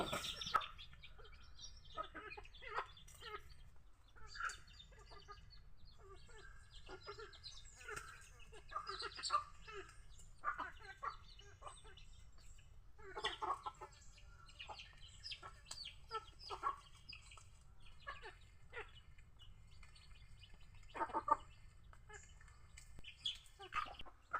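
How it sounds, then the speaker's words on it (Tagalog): Chickens in a cage cluck and call repeatedly from close by, with scattered bird chirps throughout and a steady low background hum. "Ito yung cage natin sa manok"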